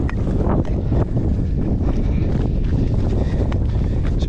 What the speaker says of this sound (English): It's a bit chilly in the wind, but it's not so bad.